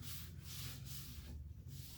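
Glue squeeze-out is wiped off a clamped wooden cutting board glue-up, making soft, close rubbing strokes in an uneven back-and-forth rhythm, quiet and alone.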